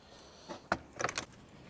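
Metal tools clink and jangle as they are gathered up after a major service on a Hyundai Elantra, a few short sharp rattles close by in a quiet garage.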